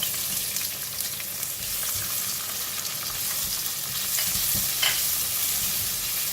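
Onions stir-frying in a pan for prawn fried rice: continuous close sizzling with scraping and tossing of a spatula throughout, and no voices.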